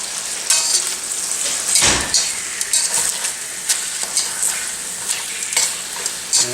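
Busy sizzling and spattering from chicken frying in a pan, with bursts of scraping and clattering as pieces are moved and turned.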